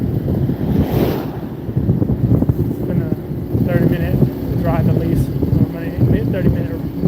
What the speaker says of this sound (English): 30-minute motorcycle ride.